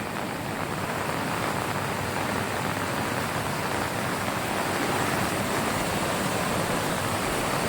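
Rushing floodwater after heavy rain, the biggest flood of the year, swamping fields and a well: a loud, steady, broadband roar of flowing water that continues unbroken throughout, with no voices.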